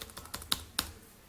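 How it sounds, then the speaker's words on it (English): A few sparse keystrokes on a computer keyboard while an IP address is typed into a web browser: about six quiet clicks, two of them sharper and louder, spaced irregularly over a second. "I can type in the IP address, the virtual IP address of the Groov box"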